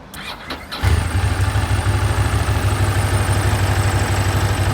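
A 2006 Ducati ST3S ABS motorcycle cranks briefly and fires up, then settles into a close, loud, lumpy idle with a steady pulsing beat.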